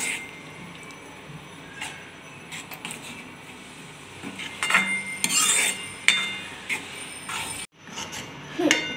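Cream being stirred into methi matar malai curry, a fenugreek and green pea dish, in a pan: soft scraping and clinking of a spoon against metal with wet squishing, in close, intermittent bursts.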